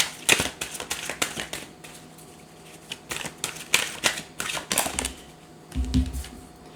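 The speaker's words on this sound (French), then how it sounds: "ce que vous entendez, c'est mon lapin. Il est en train de s'éclater sur le canapé" Pet rabbit romping on a sofa, irregular soft scratchy thumps and rustles in scattered bursts, close and moderately loud, with a low thud near the end.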